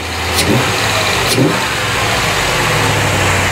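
A 1990 C4 Corvette engine runs steadily at close range, a continuous low rumble holding even throughout, with two brief clicks near the start and no talking.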